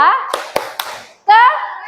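Children doing a clapping chant in a classroom, a few sharp hand claps in rhythm between lines of a teacher's voice, close and loud.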